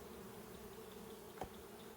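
Honey bees buzzing inside an open hive during a beekeeping check, a steady low faint hum close by, with one brief louder tap or knock midway.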